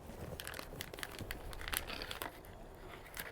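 A padded mailing envelope is handled up close, giving a few seconds of crinkling and rustling in irregular bursts with no voices.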